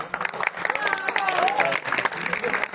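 An audience claps together at a school Republic Day rehearsal, a dense crackling burst of applause that fills the space steadily, with voices chattering underneath.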